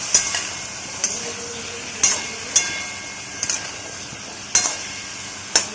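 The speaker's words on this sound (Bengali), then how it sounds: "দিয়ে দিচ্ছি আমরা এর মধ্যে পরিমাণ মতো নুন দিয়ে আমরা খুব ভালো করে কুমড়োটাকে ভেজে নেব" Pumpkin fries with salt in a pan under a faint hiss, while a spatula strikes and scrapes the pan at a roughly regular pace about once a second.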